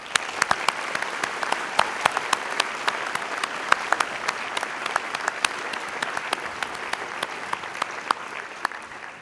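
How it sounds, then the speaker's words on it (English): Applause for new graduates at a university graduation ceremony, a large hall of clapping with sharp individual claps standing out, sustained and even throughout. "Please, everyone, honour them with your applause."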